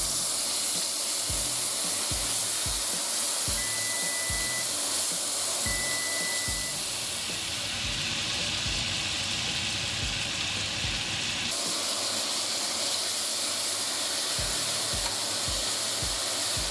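Venison tenderloin searing in a hot pan, a loud continuous sizzle and hiss with brief stirring or spraying noises and a surge of steam partway through, close and without talk.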